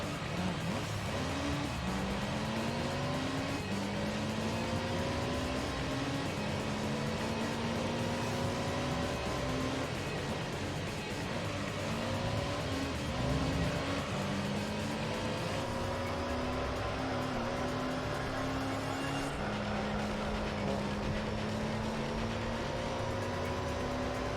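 The LMP Dragon race car in Gran Turismo 3 drives steadily for the whole stretch. Its engine holds a continuous, fairly quiet whine with rising gear sweeps that repeat as it shifts up through the gears, heard alone.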